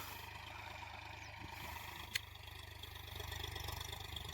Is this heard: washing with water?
no